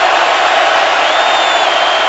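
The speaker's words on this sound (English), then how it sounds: "Crowd roaring" Stadium crowd roaring at a 49ers vs Seahawks NFL football game in 2013, a loud, steady wash of massed voices that holds without a break throughout.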